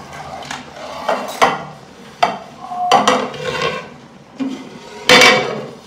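Dishes and plates are washed and handled in a kitchen, with a series of close, irregular clinks and knocks of crockery set down and moved around, separated by short pauses, and no talking.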